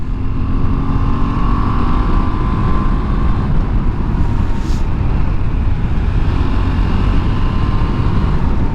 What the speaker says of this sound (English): Two downshifts into fourth.